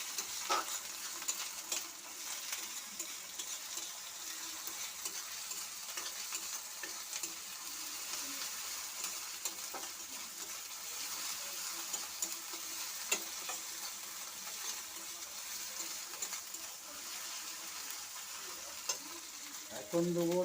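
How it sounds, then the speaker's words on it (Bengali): Cumin seeds and spices sizzle in hot oil in a pan, with a steady frying hiss running throughout and occasional soft scraping and clicking from stirring, close and fairly quiet. "মশলাটা একটু ভাজা ভাজা করে নেব।"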